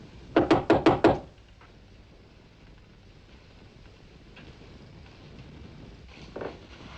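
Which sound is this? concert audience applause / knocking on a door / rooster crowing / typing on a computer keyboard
knocking on a door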